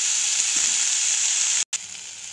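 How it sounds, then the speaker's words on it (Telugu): Chopped tomatoes fry in a pan with cumin seeds, giving a steady, loud, bright sizzle that runs continuously, cut off by one brief dropout before resuming. "ఒక 2 టమాటాలు వేసి బాగా మగ్గనివ్వాలి"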